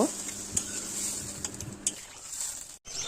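Potato curry broth heating in a pan with stirring, a steady sizzling bubble and scraping, close and moderately loud, with a brief dropout near the end.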